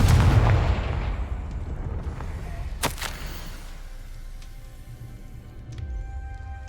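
Confringo blast spell fired in the Hogwarts Legacy video game: a loud booming burst with rumbling low-end, a sharp crack near the middle, then fading rumble and ambient game tones.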